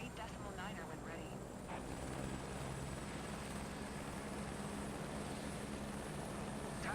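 A steady propeller-aircraft engine drone during taxiing in Microsoft Flight Simulator 2024, a constant, even hum with faint radio-style voices over it.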